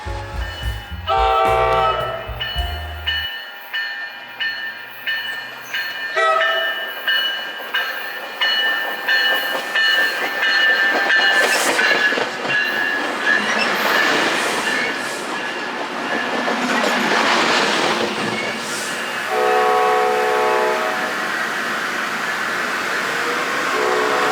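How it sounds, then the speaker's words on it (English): Southbound Coaster commuter train passing in Southern California, its horn blaring loudly at first, then a long rumble and clatter of cars rolling by, followed by a further horn blast near the end. "this southbound coaster train comes along with the same consist of this other northbound train from earlier"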